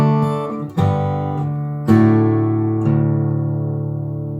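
Fingerstyle acoustic guitar plays the 11th measure of a song without the alternate G shape: four plucked chords struck at uneven intervals, each ringing and decaying, close and clear with no talking.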